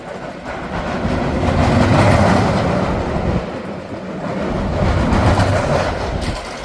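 A roller coaster ride at Indiana Beach, a boardwalk-style amusement park, with a loud steady rumble and clatter of wheels on track that swells and eases without voices.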